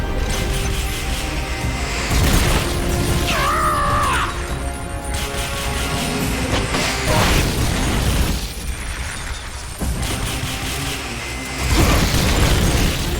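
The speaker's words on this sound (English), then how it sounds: "Firing rocket launcher." A Metal Gear Solid rocket launcher fires amid loud mechanical clanks, booming impacts and a brief warbling electronic tone, all dense and close with no speech.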